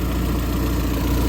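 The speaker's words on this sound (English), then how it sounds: "you can hear the exhaust blowing" A 2004 Peugeot 206cc engine idles steadily with a leaking, blowing exhaust manifold, giving a close, continuous low rumble with a faint ticking pulse throughout and no talking.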